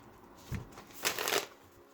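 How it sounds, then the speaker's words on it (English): Tarot cards shuffled in two quick riffling bursts, the first short and the second longer, close and crisp with quiet gaps between. "Let's give it a good shuffle"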